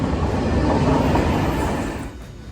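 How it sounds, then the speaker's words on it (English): A train arriving at a station in Pisa rumbles and clatters steadily nearby, a broad rolling roar that eases off toward the end. "I think that's our train coming."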